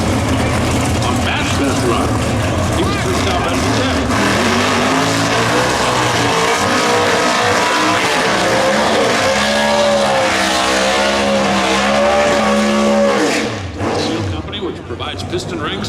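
Loud NHRA Pro Stock drag race cars at Chicago's Route 66 Raceway roar at high revs, engine pitch sweeping up through gear changes before fading near the end, with an announcer talking over the noise.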